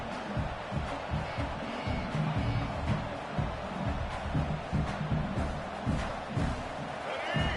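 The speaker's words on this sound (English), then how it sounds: "the crowd coming to life here, trying to help this defense down in the red zone" Stadium crowd in College Football 26 roaring and cheering as the defense holds in the red zone, a dense continuous wall of crowd noise with rhythmic surges and a commentator talking over it.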